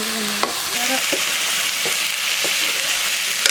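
Food sizzling and frying in a pan during outdoor farm-shelter cooking, a steady broadband hiss with a few scraping stirs and brief clinks, close and continuous with no talking.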